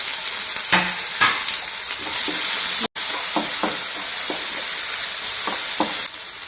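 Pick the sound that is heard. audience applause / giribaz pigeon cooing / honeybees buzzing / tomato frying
tomato frying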